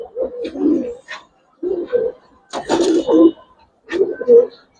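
Silver muffed Giribaz pigeons coo in a series of soft, throaty bursts separated by short pauses. The sound is close and moderately loud.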